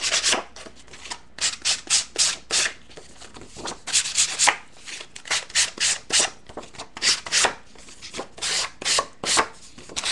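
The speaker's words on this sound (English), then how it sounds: "I'm going to just sand it down a little bit." A paper frame edge for a scrapbook layout sanded by hand in quick rhythmic strokes, close and fairly loud, each rasping pass separated by short pauses, with no speech.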